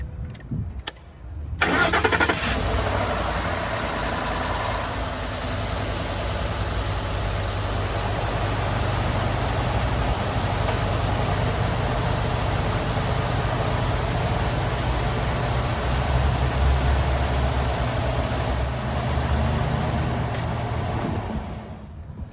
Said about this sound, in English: now I'm just going to start the car up real quick, get some oil circulating through